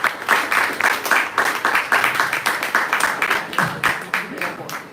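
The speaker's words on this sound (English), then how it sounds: "Okay, big claps everyone." An audience at a summer residency cohort event claps steadily and loudly in sustained applause, with voices mixed in beneath.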